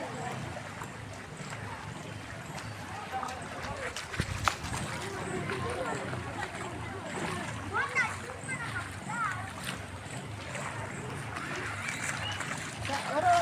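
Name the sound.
footsteps splashing through floodwater at a church gate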